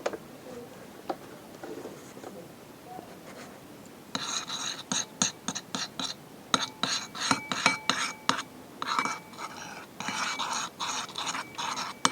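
Homemade slime being stirred, starting with soft faint handling, then quick clicking and tapping strokes against the container, close up and without talk.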